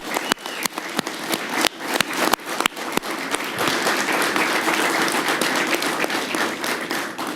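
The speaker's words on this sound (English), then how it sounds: "Let's give them all a round of applause." Applause at a ceremony honoring firefighters and EMS workers, starting with a few sharp, close individual claps before swelling into steady, dense clapping from the assembled crowd.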